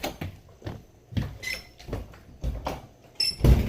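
A door that always sticks is wrenched open in a series of scraping, thudding jolts. The rattling pushes repeat every half second or so at close range, and a louder bang comes at the end.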